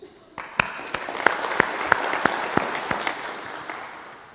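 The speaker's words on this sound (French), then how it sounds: "Applaudissez-le." Audience applause at a French-language lecture on success, opening with a few strong rhythmic claps that swell into a fuller round of clapping and then slowly fade away.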